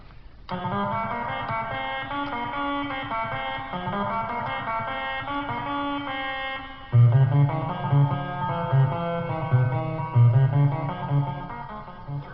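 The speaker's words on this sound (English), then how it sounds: "that was still the Stylophone pocket-sized electronic organ powered by that tiny little PP3 battery" A buzzy Stylophone pocket electronic organ, powered by a PP3 battery and played through a separate amplifier, plays a steady melodic line with sustained chords; after a few seconds it turns louder and bassier, with punchy low notes pulsing rhythmically.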